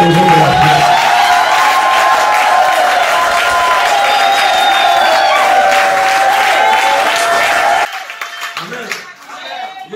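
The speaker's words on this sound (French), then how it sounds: "Acclame pour un héros de la foi." A church congregation applauds and cheers loudly for a hero of the faith, dense sustained clapping and shouting that stops abruptly near the end, leaving quieter scattered sounds.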